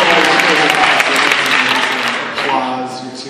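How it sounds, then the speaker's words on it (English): An audience at a comedy festival question-and-answer session breaks into loud, dense applause that carries steadily throughout, with a speaking voice faintly audible beneath it. "Applause, you're too nice."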